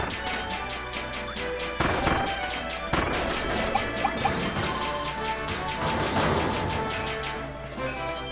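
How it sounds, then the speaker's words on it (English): Soda cans being shot in Kirby and the Forgotten Land, heard as a steady run of crashing, smashing impacts with a few louder hits among busy game sound, no one speaking. "I'll shoot soda cans over here."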